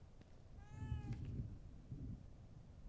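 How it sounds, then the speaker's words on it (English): A cat gives a single drawn-out meow in the horror video game The Evil Within 2. The meow is fairly faint and set over a low, murky ambient rumble, with a soft thud just after it. "A cat?"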